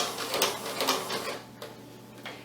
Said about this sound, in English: I'm going to put my presser foot back down, and I'm going to continue around the edge.